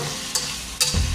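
Chicken pieces dropped into a pan with onion and melted margarine, a steady close sizzle with brief stirring scrapes and a fresh crackling burst near the end.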